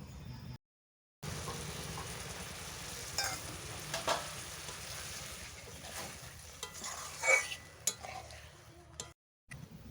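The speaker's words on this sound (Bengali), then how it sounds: "আরও ভালোভাবে আমি 2 থেকে 3 মিনিট সময় নিয়ে ভেজে নেব" Prawns and potatoes frying in a pan for chingri aloo posto, a steady close sizzle with stirring scrapes and light clinks of a utensil, broken by two brief silent gaps.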